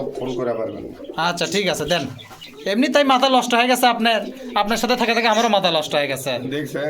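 Pigeons coo and murmur at a crowded pigeon market, their soft calls running underneath steady close conversation between several people.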